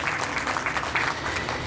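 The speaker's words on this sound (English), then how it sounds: "Yeah, you can clap for that." Audience at a college spring commencement ceremony clapping steadily throughout, a dense, even wash of applause with no break.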